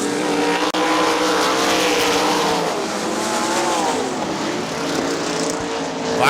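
Sprint cars race around Winston Motor Speedway, engines roaring in a continuous high-revving drone with rising and falling pitch as cars pass, loud and close throughout.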